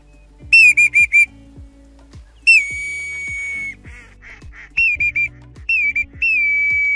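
Clear whistled bird calls imitating a common redshank flying overhead, several short repeated notes then longer sliding whistles, close and loud, with quiet background sounds between, during a wild duck hunt.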